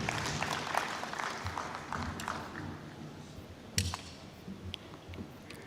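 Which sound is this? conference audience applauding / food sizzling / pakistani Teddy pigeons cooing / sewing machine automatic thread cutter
conference audience applauding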